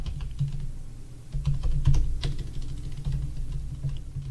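Steady typing on a computer keyboard, a close continuous patter of key clicks at an even pace over a low constant hum, with no voices.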